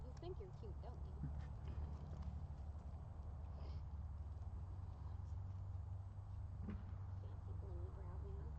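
Hooves of a horse being ridden clip-clop at a walk, faint and fairly close, under steady background rumble, with people talking quietly over them.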